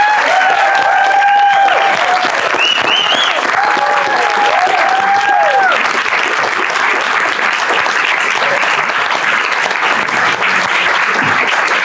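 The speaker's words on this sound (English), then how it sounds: "Round of applause, everybody here, kid." A live audience at a Hawaii governor and lieutenant governor candidate panel claps in a sustained, dense round of applause lasting the whole stretch, with a few voices and whoops standing out early on.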